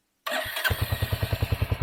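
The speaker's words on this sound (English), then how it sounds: "Let me just switch on the motorcycle and then show you how the exhaust note of the Hunter 350 is." A Royal Enfield Hunter 350 motorcycle cranks and catches, settling into a close, loud idle with a steady thumping single-cylinder exhaust pulse.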